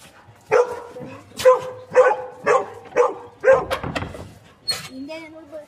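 A group of dogs, three retrievers, a husky and a shih tzu, bark loudly and close by in a series of sharp barks about a second apart, ending with a higher whine or yip.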